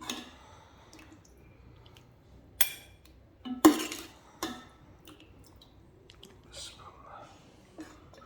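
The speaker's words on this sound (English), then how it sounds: "So we will dish it out." A spoon dishes out okra chicken curry: a few distinct clinks and scrapes against the pot and plate, separated by quieter pauses, close by, with soft low voices in the background.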